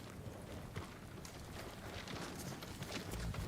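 Faint rhythmic horse hoofbeats in the video game Ghost of Tsushima clop along at a trot over a soft background rumble, quiet and somewhat distant.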